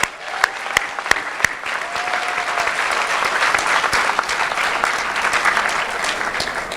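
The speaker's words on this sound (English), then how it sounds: "we should give them a round of applause" A graduation crowd at the 2017 St. George's University commencement in Grenada applauds, sustained dense clapping with a few sharp, louder claps standing out near the start before the applause swells and holds.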